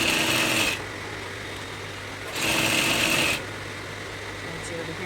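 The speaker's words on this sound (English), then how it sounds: "And you continue your sewing" A sewing machine stitches a kimono sleeve seam in two close bursts of rapid whirring, split by a pause, with a person talking quietly under and between the runs.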